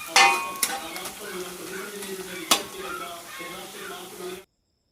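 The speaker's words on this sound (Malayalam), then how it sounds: "സവാളയും തക്കാളിയും ഇഞ്ചി വെളുത്തുള്ളി എല്ലാം നമ്മൾ നല്ലപോലെ വെളിച്ചെണ്ണയിൽ നല്ലപോലെ വഴറ്റിയെടുത്ത്" Onion, tomato, ginger and garlic sautéing in coconut oil in a pan, with a close crackling sizzle, a few sharp spoon knocks against the pan and stirring scrapes, ending abruptly in silence.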